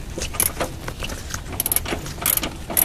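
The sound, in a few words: ratchet with deep socket removing a Honda Civic mount bolt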